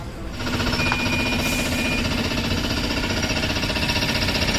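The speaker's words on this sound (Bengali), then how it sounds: "টায়ার খোলা হচ্ছে" A tyre being removed during a puncture repair, a steady loud mechanical rattling and hammering that runs continuously near the listener from just after the start to the end.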